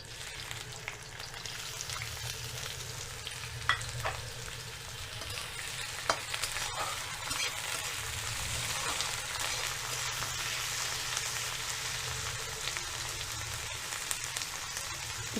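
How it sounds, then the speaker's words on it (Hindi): Okra (bhindi) fries in hot oil for dahi bhindi, giving a steady close-up sizzle and crackle throughout, with occasional sharper pops and stirring noises and no talking. "इसी ऑयल में मैं भिंडी को भी फ्राई करूँगी।"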